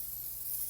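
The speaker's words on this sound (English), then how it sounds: "I'm spraying these extra because I don't want nothing sticking on me." A steady, soft hiss of cooking spray from an aerosol can, continuous and close, with no other sounds.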